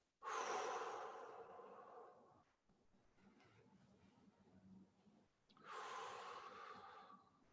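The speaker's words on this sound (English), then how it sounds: "breathing out as you're going forward, breathing in as you're going back and up" Deep, slow breathing during shoulder rolls: a long, forceful exhale, a quiet pause with soft air movement, then a strong inhale, each breath near and clearly audible.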